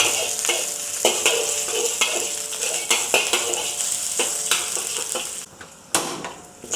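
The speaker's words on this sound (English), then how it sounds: "Heat the wok, add the oil, saute the garlic and ginger over low heat." Garlic and ginger sauté in oil in a wok over low heat, a continuous close sizzle punctuated by regular scraping and clattering stir strokes, with no talking.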